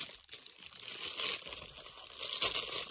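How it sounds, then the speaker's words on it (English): Plastic packaging around a Temu baseball cap crinkles and rustles continuously up close, a bright crackling texture that swells and fades through the whole stretch. "Sorry about the crinkling."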